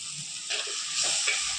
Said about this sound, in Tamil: அந்த எண்ணெயெல்லாம் பிரிஞ்சு வராத அளவுக்கு வதங்கட்டும்